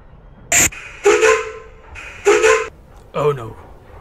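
Steam train whistle in an animated story, two sharp piping blasts heard clearly, interspersed with character voices speaking nearby.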